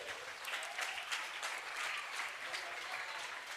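Students watching a school social drama applaud loudly and steadily, a dense wash of many hands with some crowd voices underneath, heard from a little distance.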